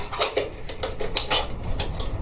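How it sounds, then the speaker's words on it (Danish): A knife cuts a hole in a black plastic bucket used for growing tomatoes, giving close, loud, rapid scraping and clicking strokes with no talking. "Og så skærer man hul i den."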